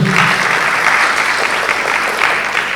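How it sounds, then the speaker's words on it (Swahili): A loud, steady wash of applause from an audience at the launch ceremony of Sky International TV in Dodoma, continuous and full throughout with no voices standing out. "Alafu makofi kwa mara nyingine upande huo"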